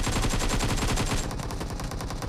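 Rapid automatic gunfire in the mobile battle-royale game PUBG Mobile, a loud, fast, continuous burst of shots that keeps up for the whole stretch with no talking.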